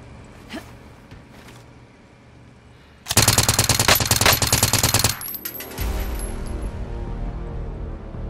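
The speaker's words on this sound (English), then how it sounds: "Shooting over here on the roof." Rapid automatic gunfire in a video game battle royale match, a dense loud burst lasting about two seconds, followed by continuing game noise and scattered shots.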